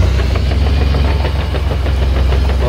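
A backhoe engine in Farming Simulator 19 revs and runs steadily, a continuous loud mechanical drone with a knocking pulse and no pauses.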